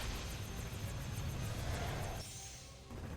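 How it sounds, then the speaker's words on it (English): Helicopter in the video game Ninja Blade, a steady rotor and engine roar with rhythmic chopping pulses that drops off suddenly and then swells back, no talk. "I'm killing a helicopter."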